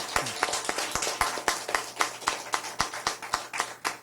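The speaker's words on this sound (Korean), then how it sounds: "다시 한번 큰 박수 부탁드립니다" At a Korean political gathering, a modest audience claps in scattered, fairly even bursts, a loose sparse patter of hands at close range.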